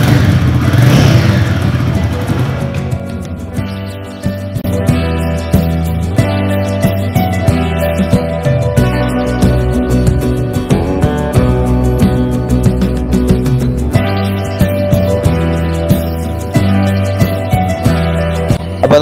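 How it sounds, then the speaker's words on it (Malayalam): A Royal Enfield Guerrilla 450 motorcycle revs close by through its loud exhaust, a deep throbbing idle broken by repeated throttle blips that rise and fall in pitch, with no talking. "വളരെ നല്ല ഒരു എക്സോസ് നോട്ടാണ് ഇവിടെ കൊടുത്തേക്കുന്നത്. പിന്നെ ഇത് അത്യാവശ്യം ലൗഡാണ് കേട്ടോ."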